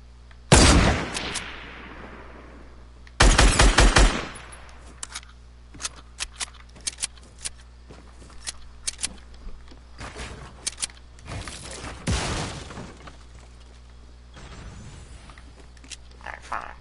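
Shotgun blasts in Fortnite come as a few loud, separated booms with short bursts of smaller clicks and mechanical rattles between them, sparse and uneven over a quiet background.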